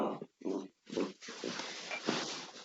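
A dog barking and whimpering close by, a series of short, rough yelps and whines in quick bursts with brief pauses between.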